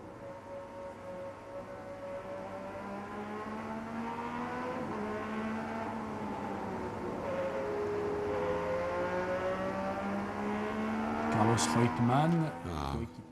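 An onboard Formula 1 car with an Alfa Romeo engine at Zolder drones loudly and continuously, its engine pitch climbing and falling through gear changes, with a brief sharp rise near the end.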